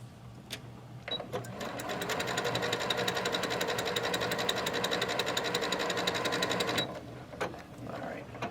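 A sewing machine stitches quilt fabric in a rapid, even mechanical chatter for several seconds, starting and stopping cleanly, with a few soft handling clicks around it and brief talk nearby.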